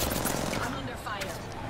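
Gunfire in the Apex Legends video game: dense, rapid automatic shots rattle continuously, with a voice heard over the barrage.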